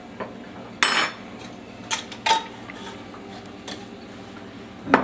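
A utensil scrapes and clinks against a bowl while oats and other bread ingredients are mixed, giving a few sharp metallic knocks over a quiet background.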